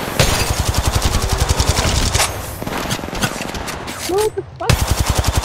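Rapid automatic gunfire bursts in the Apex Legends Mobile video game, loud and close, with a short pause and a brief shout breaking in before the firing resumes.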